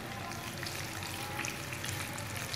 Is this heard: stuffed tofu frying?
yes